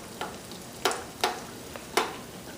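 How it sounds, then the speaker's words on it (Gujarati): Mandazi dough fries in hot oil with a constant soft sizzle, broken by four sharp splashing clinks as a spoon ladles oil over the puffing pieces. "ને તરવા માટે જ્યારે તમે તરતા હો ત્યારે ખાલી ચમચા સાથે તમે તેલ ઉપર નાખજો."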